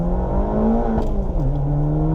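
Fiat Abarth hatchback exhaust giving a single sharp pop over a steady loud engine drone as the revs settle, close and with no voice.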